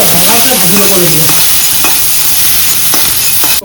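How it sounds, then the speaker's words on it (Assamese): Onions frying dark in a pan for a chicken curry, a loud, close, steady sizzle with a few sharp stirring knocks, no speech. "পিঁয়াজ পুৰা ৰঙা মানে কলা কৰি দিছোঁ একদম ভাজি"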